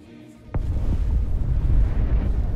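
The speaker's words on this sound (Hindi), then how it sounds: "जहां पटाखे फट रहे हैं तू उस जगह के करीब है" Firecrackers burst in the sky nearby, with one sharp crack followed by a dense, continuous low rumble of booms that stays loud to the end.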